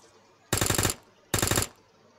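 Two short bursts of automatic fire from a Thompson submachine gun in a Roblox zombie survival game, each about half a second of rapid, loud shots separated by a brief pause.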